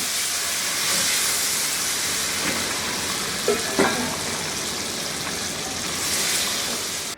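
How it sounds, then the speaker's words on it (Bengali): Sliced boiled eggs sizzle and hiss in hot oil at a steady level, with a couple of brief utensil clatters partway through. "আমি এখানে 6টা ডিম যে কেটে রাখছি সিদ্ধ করে, ওগুলাকে একটু ভেজে নিব।"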